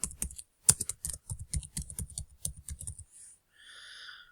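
Quick bursts of keystrokes on a computer keyboard, close and fairly crisp, pausing after a few seconds before a faint soft whoosh of sound at the end; no voices.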